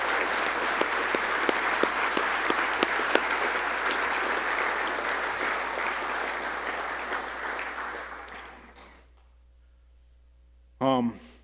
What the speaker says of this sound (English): why don't we give a round of applause for Hadley and his family and the Munsell.